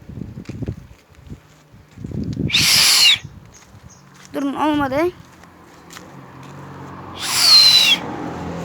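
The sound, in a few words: person imitating bird calls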